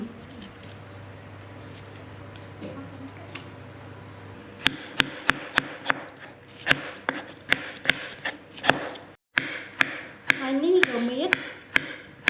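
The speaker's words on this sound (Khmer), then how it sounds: "នេះខ្ជាយចាឥឡូវនេះខ្ញុំចាប់ផ្ដើមហាន់ម្ដេងម្ដង" Knife chopping galangal in a Cambodian village kitchen while fish meatball soup is prepared: about a dozen crisp, evenly spaced strikes ring out close by after a quieter stretch of low murmur and hum.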